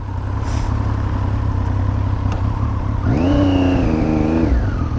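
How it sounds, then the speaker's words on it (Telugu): A 2024 BMW S1000RR M Sport superbike on its stock exhaust revs up near the end, a smooth rising engine tone that holds briefly and then drops away over steady road noise. "అది స్టాక్ ఎగ్జాస్ట్ కాబట్టి సౌండ్ అసలు ఏం వస్తలేదు దాని నుంచి"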